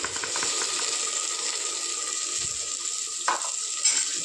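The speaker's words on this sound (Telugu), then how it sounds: "టమాటా పేస్ట్ కూడా బాగా ఫ్రై కావాలి." Tomato paste fries with onions in a pan, giving a steady close sizzle with a couple of brief stirring scrapes near the end and no talk.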